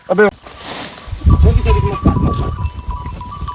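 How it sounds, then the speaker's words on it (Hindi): Goats bleat loudly in a short burst while being fed fodder outdoors, followed by continuous rustling and munching close by, with someone talking over the scene. "अभी राकेश खिला रहा है भाई हमारे बकरियों को, देखो चारा।"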